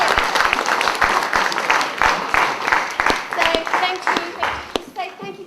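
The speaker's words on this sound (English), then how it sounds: "So give yourselves a big round of applause." Children and families at a young performers' theatre and film school workshop give a big round of applause, with sharp individual claps at an uneven rhythm and voices chattering and speaking over it.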